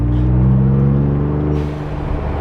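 Ford Bronco, 2021 or later, fitted with a Turbosmart blow-off valve, its engine droning loud and close, with a brief whooshing release as the throttle is let off partway through.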